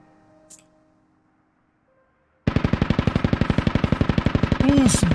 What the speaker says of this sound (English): We can hear the gun truck already popping off